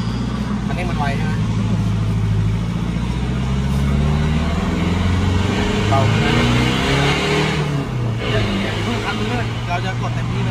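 A stock budget car driving along, its engine droning steadily and loudly inside the cabin with a shifting low rumble, while people talk over it throughout.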